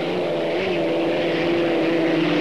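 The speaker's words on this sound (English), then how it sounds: "A Merlin engine for the Executone against the Griffin engine of the Budweiser" Unlimited racing hydroplanes in the 1985 Syracuse heat, one powered by a Merlin engine and the other by a Griffin engine, roar steadily at full power, a loud continuous drone with no pauses.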